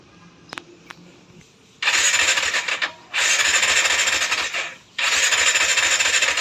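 A small engine is cranked hard during a difficult start with the choke in use, giving three loud, sustained bursts of whirring and grinding separated by brief pauses, close to the microphone.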